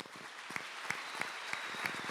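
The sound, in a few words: applause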